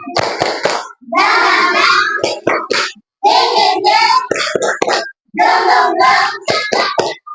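A classroom group claps in a rhythmic cheer pattern, loud bursts of patterned hand clapping separated by short pauses, the claps near and sharp.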